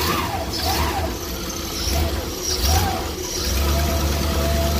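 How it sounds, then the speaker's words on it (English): A large RV engine that idles poorly rumbles loudly, rising and falling as it is revved a few times, with a high squealing whine riding over it. "Let me give it a little bit of gas."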